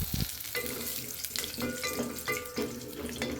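Cashews fry in hot oil in a pan for onion rice, a busy sizzling crackle with scraping stirs and clinks of a utensil at intervals, close and fairly quiet.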